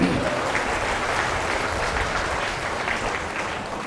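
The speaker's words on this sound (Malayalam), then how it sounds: "കൈയടിച്ച് കർത്താവിന് നന്ദി പറയണം." A church convention congregation applauds together, a dense, sustained clapping from many hands that fills the hall for several seconds and eases slightly toward the end.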